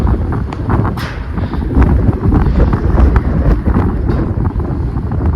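Strong wind buffets the microphone on an exposed walking path at Puligundu, a loud, steady rumbling roar with gusty surges throughout and no clear talk.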